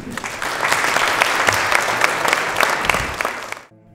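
Sustained audience applause fills the room at a tribute event for Davit Sarapyan, dense and steady, then cuts off abruptly near the end.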